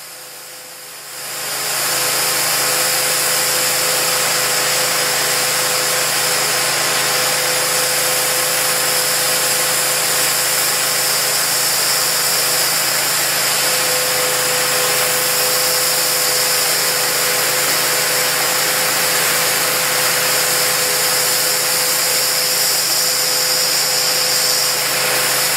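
An abrasive water lance firefighting cutter slicing through half a centimetre of structural steel, a loud unbroken hissing roar that starts abruptly after a brief quiet moment and holds steady throughout.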